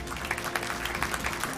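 A banquet crowd claps steadily at the 2019 Little Rock Touchdown Club Awards, honouring high school football players and coaches. The clapping is dense and continuous, with no talking.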